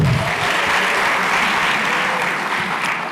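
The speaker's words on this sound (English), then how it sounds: "Can we get a round of applause?" An audience at a national science and technology exhibition breaks into loud, dense applause, a continuous wash of many hands clapping for a few seconds.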